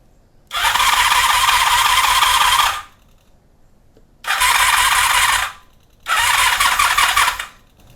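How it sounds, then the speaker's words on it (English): A 1982 Honda Magna V45 motorcycle engine cranks over in three loud, close bursts of whirring starter, the first long and the next two shorter, separated by pauses, without catching. "I'm going to try just firing it up without any enricher or anything."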